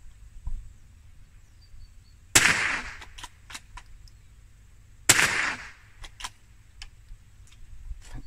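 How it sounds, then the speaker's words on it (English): Two sharp gunshots from a .22 rifle, a few seconds apart, each with a brief ringing tail, over quiet outdoor background with faint clicks. "Gonna be a bang, Rocky"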